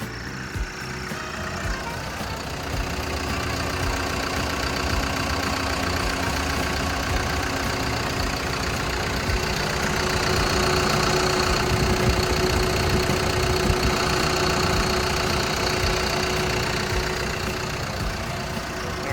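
A Hitachi ZW150 wheel loader's diesel engine runs steadily and loudly throughout, with a low knocking rumble and a faint high whine, no voices present.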